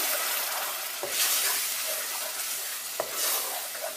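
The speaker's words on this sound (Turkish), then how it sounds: "sosumuzu da ekliyorum. Ve şöyle bir karıştırıyorum." A sauce is stirred into a pan of sizzling food, with a steady frying hiss throughout and a couple of sharp utensil scrapes against the pan; no one speaks.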